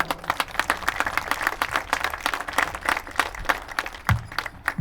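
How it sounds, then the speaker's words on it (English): An audience claps at a school graduation ceremony, a dense, steady patter of many hands that carries on without a break and without talk. "Please give him a round of applause."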